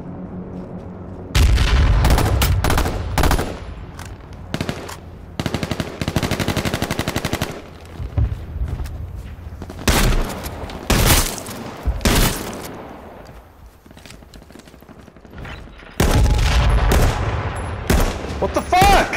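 A SOCOM rifle fires at another player in the H1Z1 battle royale game: loud, close bursts of rapid gunfire come in several volleys, with short pauses and quieter stretches between them.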